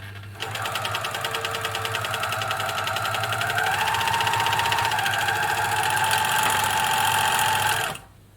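A Japanese-made Singer Ultralock 14u234 serger overlocker runs smooth and steady, its fast even motor whir holding at a constant rate close up, rising slightly in pitch midway, then cutting off at the end.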